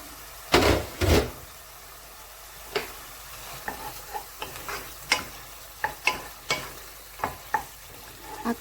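Ragù sauce for lasagna stirred in a pot as it cooks, with a series of clear spoon scrapes and knocks against the pan over a faint background, two louder strokes near the start followed by lighter, regularly spaced ones.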